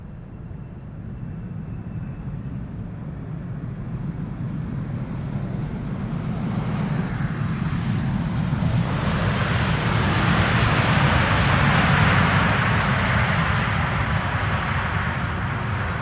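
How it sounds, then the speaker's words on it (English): A KLM Embraer 190 airliner arrives at Amsterdam Schiphol Airport, its engine roar and rushing air swelling steadily as it approaches, loud and broadband with a deep rumble beneath, heard alone without talk. "The next airplane after this is going to be KLM Flight 982 arriving from London City. That's an Embraer 190."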